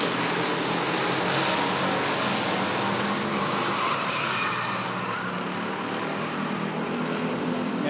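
Race cars roar through a Roadrunner heat race at Rockford Speedway, a loud, dense engine drone from the pack that swells and fades slightly as they pass, with a commentator's voice faintly underneath.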